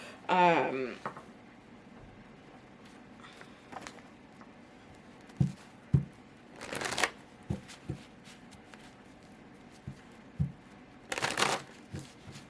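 Tarot cards being shuffled in several separate bursts, with soft taps and riffles between them, close and moderately loud; a voice is briefly heard at the start.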